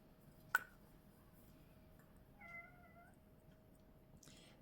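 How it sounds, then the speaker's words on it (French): A cat gives a drawn-out, unhappy meow partway through a quiet indoor scene. A sharp click comes just before it, and a soft rustle follows at the end. Nobody speaks. "ne vous fiez pas à ce miaou très malheureux"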